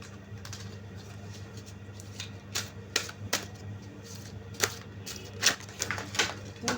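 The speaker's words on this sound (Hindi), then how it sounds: "बहुत सारे कार्ड्स गिर गए" Tarot cards tumbling onto a surface during a reading, a scatter of soft sharp taps and light slaps at irregular intervals over a quiet room hum.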